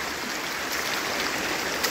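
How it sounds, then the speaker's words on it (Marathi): A clear, fast-flowing stream in a Konkan village rushes past in a steady, loud, unbroken wash of water, close by, with no voices. "वरती मस्तपैकी फ्लो आहे आणि इकडे पण पाणी बऱ्यापैकी आहे"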